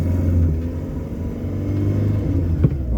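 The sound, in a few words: Peugeot 205 CTI car engine on a test drive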